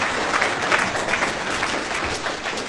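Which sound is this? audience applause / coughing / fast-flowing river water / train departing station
audience applause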